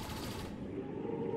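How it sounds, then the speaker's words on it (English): Enemy turrets firing on the ship in XCOM 2, a brief, quiet rattle of rapid gunfire in the distance that cuts off abruptly, leaving a low rumbling hum. "The enemy turrets are hammering the ship."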